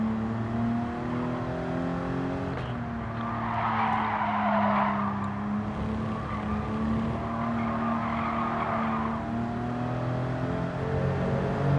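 Clio R.S. drifting in Gran Turismo 7: a steady engine drone carries a long, loud tire squeal that rises and falls in two sustained stretches as the car slides through the corner.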